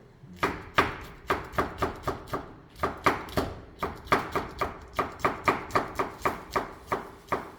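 A knife chops red chili pepper rapidly on a cutting board, quick irregular bursts of crisp thuds, close and moderately loud with no voices.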